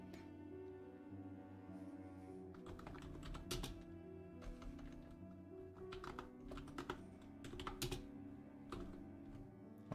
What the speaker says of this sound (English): it's a typing sound